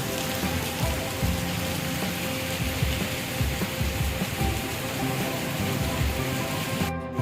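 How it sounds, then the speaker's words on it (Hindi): Heavy rain falls outdoors near an office on Ferozpur Road in Lahore, a dense, continuous hiss of drops striking surfaces, loud and close throughout with no talking. "थोड़ा सा बाहर होता हूँ तो बारिश ऐसे ऊपर गिरती है।"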